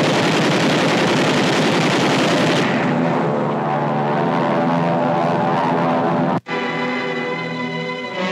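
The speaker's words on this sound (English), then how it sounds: "Strafing planes caught on the airfields." Loud roar of propeller warplanes strafing an airfield, rapid gunfire crackling over the engines, then after a brief cut a droning aircraft engine hum continues; 1945 Pacific War newsreel footage.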